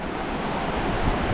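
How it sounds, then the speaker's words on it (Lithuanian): Sea waves wash against a rocky coast in Wales as a steady, full roar close by, with gusting wind buffeting the microphone and no voices. "Oho, kokios bangos."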